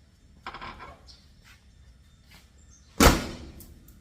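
Vent window on a 1963 VW Bus being closed: a soft scrape early on, then a sharp, loud thunk as the stiff window seats, followed by a short rattling decay, with no talking.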